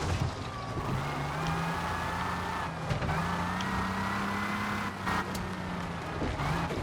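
A car in Mafia: The Old Country's Lake-To-Sea Rush time trial drives fast, its engine tone rising and falling through gear changes with brief bumps and thuds, a continuous moderate drone without voices.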